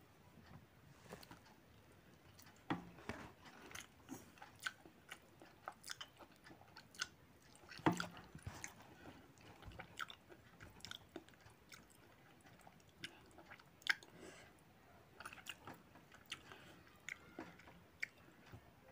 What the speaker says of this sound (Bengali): আগে নিম পাতাটা দিয়ে খাবো।